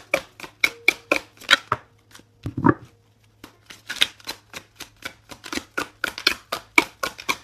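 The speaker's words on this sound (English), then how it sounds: "It's going to take me a minute just to shuffle." A Mystic Moon tarot deck is shuffled in a quick run of crisp card riffles and slaps, with a short pause partway through, then a steady patter resuming, close and alone without talk.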